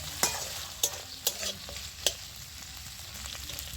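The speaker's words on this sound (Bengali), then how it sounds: "পেঁয়াজটা দিয়ে আমি ভালো করে ভাজা করে নেব" Onion stir-fried in a pan alongside a fish head, with several sharp spatula scrapes and clatters over a steady close sizzle, then the frying carries on alone.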